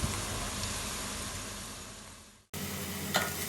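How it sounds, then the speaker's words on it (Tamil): Onions frying in a pan over a medium flame for prawn biryani, a steady broadband sizzle that fades slightly, cuts out briefly near the end, then resumes at similar strength. "ஃப்ளேம் மீடியம் ஃப்ளேம்லேயே வச்சு வெங்காயத்தை நல்லா செவக்கிற அளவுக்கு வதக்கி விடுங்க"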